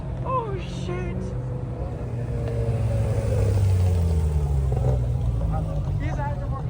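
A sports car with an aftermarket exhaust revs on a busy main strip, a steady loud engine roar rising and swelling, with voices talking and calling over it throughout.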